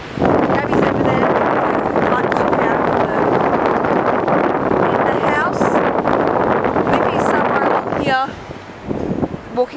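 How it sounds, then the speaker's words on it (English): Strong tropical cyclone wind buffets the microphone on a beach, roaring steadily with rustling gusts, while voices talk in the background. "It's a bit windy. It's this tropical cyclone"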